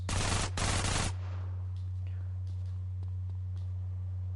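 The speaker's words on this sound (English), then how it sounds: "now they've got assault rifles and whatnot, AKs." Automatic AK assault rifle fire in the GTA San Andreas video game: two loud, rapid bursts back to back in the first second, then the shooting stops and a steady low hum continues alone.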